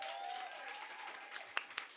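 Light applause from a small audience at an open mic poetry night, a soft distant patter of claps with a few sharper nearby claps near the end.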